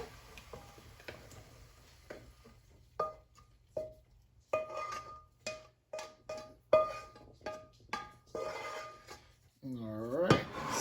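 Cooked-down mushrooms scraped from a skillet into a bowl, with a series of sharp utensil taps and clinks against the pan at an uneven pace, loud and close, and brief background talk.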